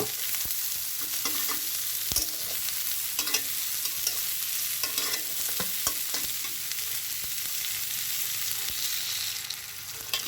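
Onions and chilies frying in plenty of oil for a dried fish curry, a continuous dense sizzle with scattered light stirring clicks, close and even throughout.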